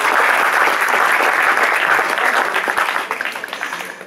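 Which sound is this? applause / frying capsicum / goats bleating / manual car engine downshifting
applause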